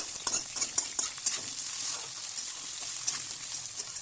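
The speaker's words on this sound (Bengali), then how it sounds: "আলুগুলিকে ফোড়নের সাথে খুব ভালোভাবে ভেজে নিব" Cut potatoes fry in mustard oil with bay leaf and whole cumin, a bright steady sizzle broken by quick scraping stirs of a spatula against the pan, close and without talk.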